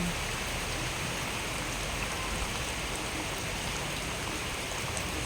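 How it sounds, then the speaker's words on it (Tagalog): Heavy typhoon rain from Typhoon Enteng pours down in a dense, unbroken hiss, loud and steady throughout with no pauses. "Malakas pa po ang ulan dito."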